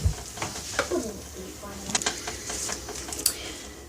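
A big whisk stirring thick Moroccan beldi black soap paste, giving irregular close wet thuds and scraping strokes, with a person talking over them.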